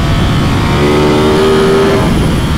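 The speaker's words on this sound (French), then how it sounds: "Wow, cette sonorité du V4, c'est génial." A Ducati Streetfighter V4S V4 engine revs hard on a race circuit, a loud, close, sustained mechanical roar with rising tonal whine, mixed with heavy wind buffeting on the microphone.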